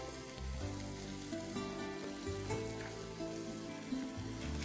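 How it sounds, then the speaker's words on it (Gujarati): Chopped capsicum, green onion and tomato sauté in a pan, giving a steady, even sizzle that hisses continuously at moderate volume with no pauses and no voices. "આ બધું પેલા સોતે કરી લઈશું."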